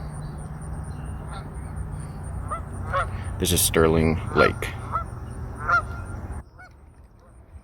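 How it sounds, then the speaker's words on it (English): Geese honk repeatedly at Sterling Lake, a cluster of loud close calls over steady outdoor background, with a person speaking briefly among them. "as you can hear all the geese"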